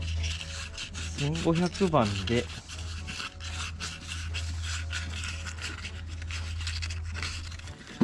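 A restored Honda NSR50 hydraulic piston part gets rubbed with 1500-grit sandpaper in steady, close back-and-forth rasping strokes, with a brief voice partway through.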